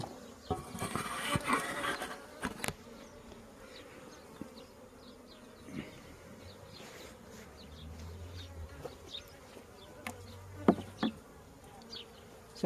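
Honeybees buzz softly in a two-queen hive opened for inspection, a faint steady hum with occasional louder passes and light rubbing and tapping on wood.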